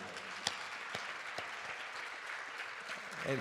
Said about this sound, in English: Let's give them a huge round of applause and say thank you.